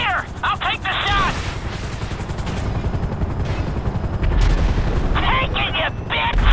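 Rapid gunfire crackles through a heist shootout in Grand Theft Auto V, dense bursts layered over a droning rotor and booming blasts, with shouted voices breaking in near the start and end.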